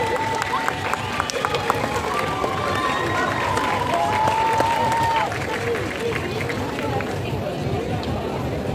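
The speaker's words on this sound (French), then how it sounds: "un tonnerre d'applaudissements pour le 11e Docteur" A stage audience at a Doctor Who fan event in France applauds the Eleventh Doctor, with steady dense clapping, scattered whoops and whistles, and crowd noise throughout.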